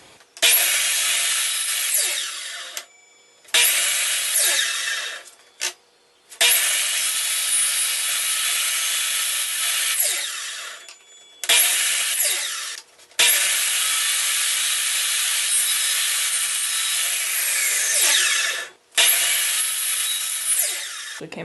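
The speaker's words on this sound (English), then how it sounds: "So I'll go ahead and show you how I do it with a miter saw." A miter saw slices through wooden pieces for a mason jar candy machine. The cuts come as about seven loud, close, rasping bursts, each lasting a few seconds with brief silent pauses between them, and no talking.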